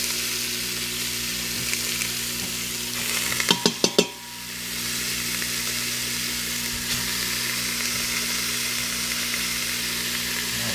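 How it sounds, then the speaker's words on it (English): A steady sizzle of pork frying in a hot Instant Pot for chili, with a brief burst of clattering stirring before the hiss settles back to a constant crackle. "That's how you know it's hot, because it starts sizzling."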